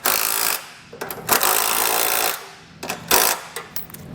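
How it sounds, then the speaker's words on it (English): A power tool fitted with an 11/16 socket runs the trailer hitch bolts snug on a 2018 Chevrolet Traverse, giving loud, close, rattling bursts of about a second each with brief pauses between them. "we can snug these up with an 11/16 size socket"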